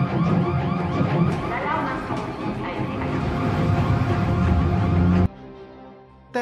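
An alarm set off inside a company building in a film, a loud continuous wailing alarm under voices and scene noise that cuts out abruptly near the end.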